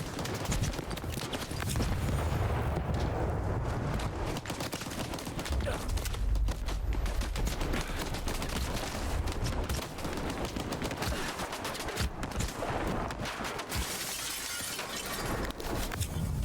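Sustained gunfire from a firefight against spawning enemies in Stalker 2: Heart of Chornobyl, with dense overlapping shots and crashing impacts continuing loudly throughout.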